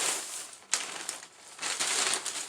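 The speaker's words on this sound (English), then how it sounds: "Y'all watch me cut the tights." Crisp crinkling snips of scissors cutting through fleece winter tights, a few close bursts with short pauses between them.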